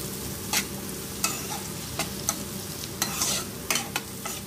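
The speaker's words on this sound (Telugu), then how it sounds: "క్యాబేజ్ వేసేసుకున్న తర్వాత కొద్దిసేపు వేయించుకోవాలి." Finely shredded cabbage fries in a pan for egg noodles, a constant sizzle punctuated by regular sharp scrapes and knocks of a spatula roughly every half second to second.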